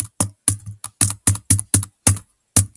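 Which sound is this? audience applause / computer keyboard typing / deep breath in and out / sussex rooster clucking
computer keyboard typing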